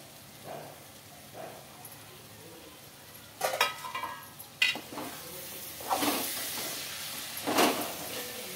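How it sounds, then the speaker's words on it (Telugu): Washed dry fish pieces dropped into hot oil for a curry hiss and sizzle in several bursts, with faint stirring and pan scraping between them, close and moderately loud. "ఇప్పుడు కడిగి పెట్టుకున్న చేప ముక్కలు అయితే వేస్తున్నానండి."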